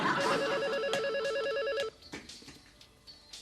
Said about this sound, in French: Quoi? Le téléphone?